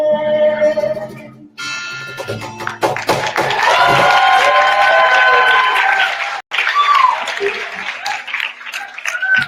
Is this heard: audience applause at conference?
yes